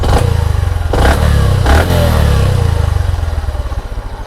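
A Hero Platina H-Gear motorcycle engine, carburetor under adjustment, blips loudly through three quick close revs, then its RPM drops straight back to a steady, throbbing idle.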